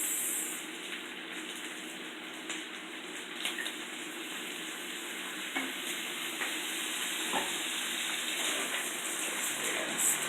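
Fish fried rice with soy sauce and Maggi seasoning being stirred in a hot pan, giving a steady, close sizzle with soft scraping strokes that runs the whole time without any talk.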